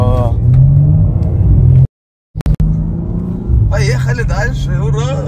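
A BMW M4 G82 pulls away at night in Moscow, its engine rumbling under continuous in-car talk, with a brief dropout midway before the drone and chatter resume.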